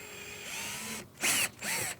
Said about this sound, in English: We're gonna go ahead and get the 1/8 drill bit here to punch holes.